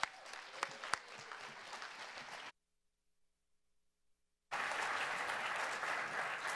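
An audience claps for the Ignite presenters at the WASTECON 2015 conference: steady, full applause, then a sudden two-second silence, then a second loud burst of clapping.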